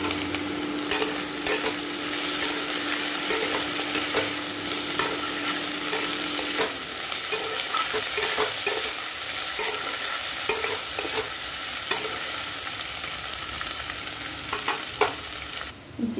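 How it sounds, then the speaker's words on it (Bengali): Potato and onion fry with bay leaf in the oil left from frying fish, a continuous loud sizzle with repeated scraping and stirring strokes close by. "তেজপাতা দিয়ে ওই আলুটার পেঁয়াজটা দিয়ে দিলাম। এগুলো একটু ভাজা ভাজা করবো।"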